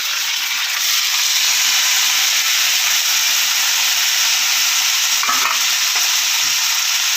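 Raw mango pieces frying with curry leaves for mango pachadi, a loud, constant hissing sizzle with a couple of brief stirring knocks near the end.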